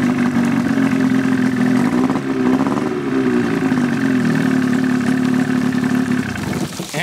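A Johnson Evinrude outboard motor runs after a recoil start, a loud, steady close-up engine drone with slight rises and dips in pitch, easing off at the very end, with no talk.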